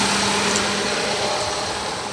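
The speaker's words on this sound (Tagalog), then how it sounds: "Tahimik makina." A manual car's engine idles quietly and evenly nearby, a soft steady hum with no voices.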